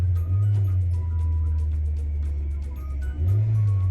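Topo BJ kei car engine revving hard from inside the cabin, a loud steady drone that dips briefly then surges again, heard alone without talk.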